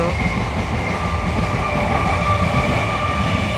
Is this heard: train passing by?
yes